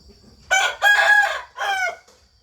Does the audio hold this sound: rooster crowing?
yes